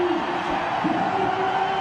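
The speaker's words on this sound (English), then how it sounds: "You can see the excitement in the crowd." A packed cricket stadium crowd roars in a steady, dense wash of cheering, with a voice talking over the noise.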